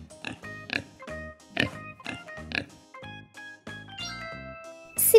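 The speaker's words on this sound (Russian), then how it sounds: "Свинка." A pig gives a series of rhythmic, close grunting oinks, about one every second, over light tinkling tones, ending in a louder burst.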